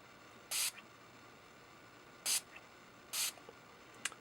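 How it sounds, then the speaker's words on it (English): Spray mist bottle spritzed at a rubber stamp for a painted pear card, three short breathy hissing bursts with pauses between and a final faint puff, in an otherwise quiet room. "give it like 2 or 3 different spritzes on there so that the mist falls down onto the rubber and wets the paint"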